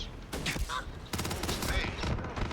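Rapid bursts of automatic turret gunfire from allied turrets in the space game Starfield, loud and near, crackling in repeated volleys through most of the stretch with a voice talking over it.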